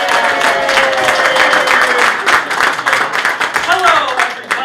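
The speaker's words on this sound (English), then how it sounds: "a round of applause, please" Applause and clapping from an evening audience at Basil's greet improv performer CJ Guzan of Impromptu, a steady dense patter with cheering and whoops mixed in, lasting throughout.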